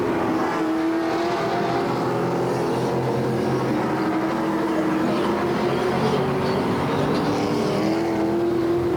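Hot rod race cars lap Sunset Speedway, a dense continuous engine roar with steady droning pitch and slight rises and falls as the pack runs, loud and sustained, with no talk over it.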